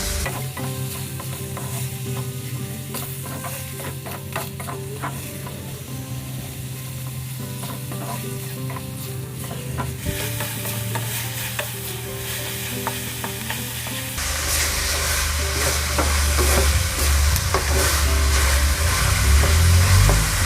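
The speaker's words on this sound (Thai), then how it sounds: "ใช้ไฟกลางนะคะผัดไปเรื่อยๆเลยค่ะ จนกว่าหมูเราจะสุกนะคะ" Minced pork stir-frying in a pan over medium heat, a loud continuous close sizzle with rhythmic scraping and clinking of the spatula, growing harsher and louder near the end, with no talking.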